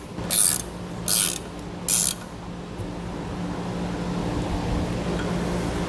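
Three short bursts of a ratchet tightening bolts on a Dexter trailer disc brake assembly in a cross pattern, each a close, loud clicking run, followed by steady low background hum.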